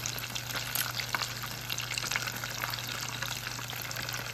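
Fried mac and cheese squares bubble in hot oil with a steady, dense crackling sizzle and small popping bursts, held close and continuous throughout.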